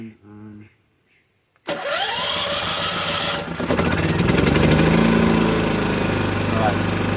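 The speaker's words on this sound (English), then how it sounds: "Now we can fire up our generator." A backup generator engine is choked and started, catching with a sudden loud roar after a short pause, then running steadily and rising slightly in pitch; brief talk is heard before it fires.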